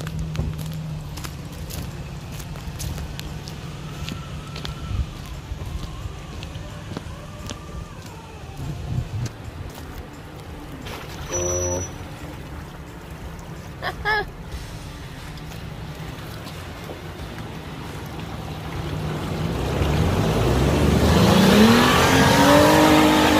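A Toyota FJ Cruiser engine revs on a forest off-road track as all four wheels spin for traction, a steady loud motor drone that climbs to a strong roar near the end, with people talking over it.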